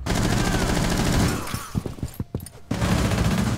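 Rapid automatic gunfire from Rainbow Six Siege rattles in several sharp, close bursts for about a second, set against a steady background of game noise.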